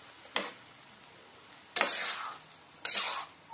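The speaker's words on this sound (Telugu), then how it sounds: "బాగా మిక్స్ చేసుకోవాలి కదా, ఈ విధంగా కలుపుకోవాలి." Beaten egg mixture stirred in a pan while cooking, three scraping, sizzling strokes, the first short and the later two longer and louder, close by with no talking.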